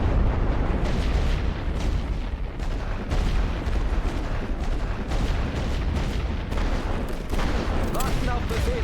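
Artillery fire in the Great War Western Front video game, a dense continuous barrage of deep booms and blasts rolling without pause, with a voice speaking over it.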